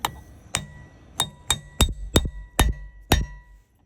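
A hammer strikes a cap being seated onto a disc brake part, about nine sharp metallic taps that quicken toward the end as it bottoms out, close and alone.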